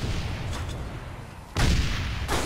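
Grenades go off in a multiplayer shooter game, with a muffled blast rumbling through the first half and then a sudden louder explosion bursting in, followed by another booming hit near the end.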